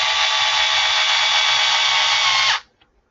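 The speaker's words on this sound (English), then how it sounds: "use my drill to run these in." A cordless power drill runs screws in at a steady, loud whine for about two and a half seconds, then stops abruptly, leaving near silence.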